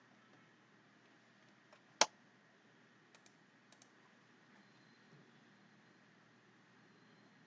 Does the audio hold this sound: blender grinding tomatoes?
no